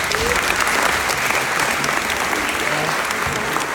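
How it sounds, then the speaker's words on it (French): Audience applause at a singing contest in Roubaix, a steady dense clapping from a sizeable crowd that stays loud and even throughout. "Et bien évidemment, un tonnerre d'applaudissements pour Benoît Juillet."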